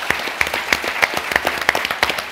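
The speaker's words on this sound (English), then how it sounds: "give all of our panelists a big round of applause" A panel discussion audience applauds its panelists with dense, continuous clapping, loud and close, with individual sharp claps standing out over the crowd for the whole stretch.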